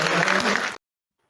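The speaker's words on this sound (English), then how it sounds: "You hear the applause." Audience applause at a Friday night current-issues debate, a dense burst of clapping that cuts off abruptly after under a second, leaving silence.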